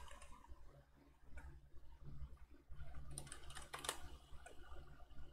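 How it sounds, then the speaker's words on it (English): A sudo command is typed on a computer keyboard in a quiet room, a run of soft, fairly close key taps with a few sharper clicks over a faint low hum. "you're just going to type in sudo first"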